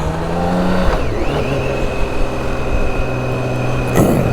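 A BMW K1600 motorcycle pulls away, its engine note rising and shifting as it accelerates, steady and fairly loud close by, with no talking.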